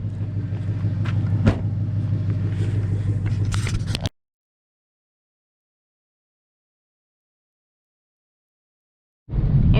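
A 2014 Ford Mustang GT fitted with a Boss 302 intake manifold drives with a steady, loud engine and road rumble for about four seconds, then drops to silence before the rumble returns near the end.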